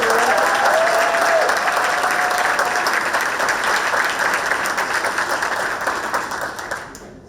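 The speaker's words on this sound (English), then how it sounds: "let's give them one more round of applause" An audience at a school pitch event gives a round of applause, dense clapping that starts loud and gradually fades out toward the end.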